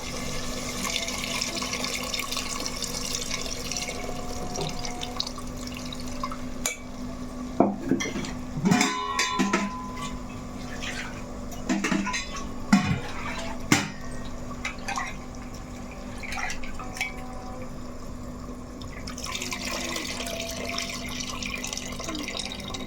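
Tamarind water poured into a pot of chicken curry, with soft liquid splashing and dripping alongside clinks of metal utensils against the pot, close by and moderately loud.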